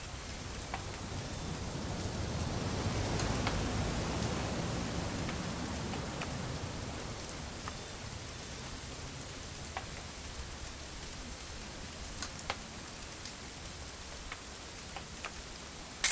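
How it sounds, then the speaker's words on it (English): Steady rain falls over a weekend outdoors, a dense even hiss with scattered close drips and ticks on nearby surfaces, moderately quiet throughout with no talk. "It's gonna rain the whole weekend, isn't it?"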